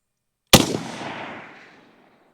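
A single sharp rifle shot from a Zastava M70 or PSA GF3 AK-pattern rifle is fired at a range target, a loud close crack followed by a long, fading outdoor echo.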